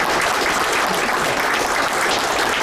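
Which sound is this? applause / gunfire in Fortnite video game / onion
applause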